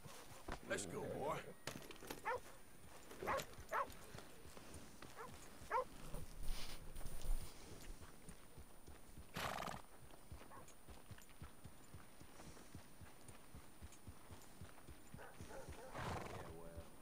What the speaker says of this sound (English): Oh, my horse is here.